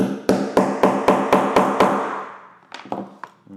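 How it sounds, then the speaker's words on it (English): A hammer strikes a metal sewing fastener being set into fabric: seven sharp, evenly spaced blows, close and loud, then a pause and three lighter taps. "then you just take the hammer and knock it down"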